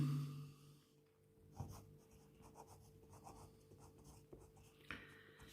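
Pen or marker writing out a maths solution for a Heron's formula geometry exercise, quiet scratchy strokes in short bursts close to the mic, with a soft tap near the end.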